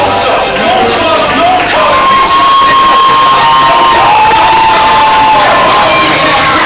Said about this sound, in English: And you can hear the response from the crowd